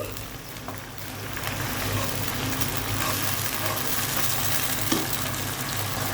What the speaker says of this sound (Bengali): এখন আমি দিয়ে দিব মশলা কষানোর জন্য সামান্য পানি